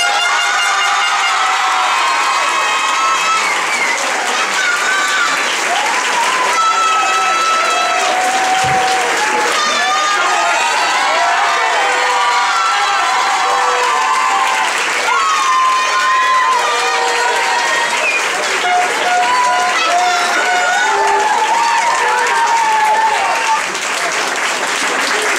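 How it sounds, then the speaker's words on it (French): A crowd at a hip hop event gives sustained loud applause and cheering, continuous claps and shouts filling the whole stretch with voices mixed in. "je vous propose de donner de grands applaudissements à Caro"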